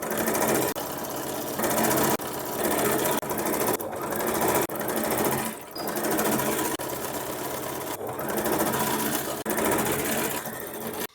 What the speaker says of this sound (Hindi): हमें इस तरह से गुलाई में सिलाई लगानी है पूरी मियानी के साथ।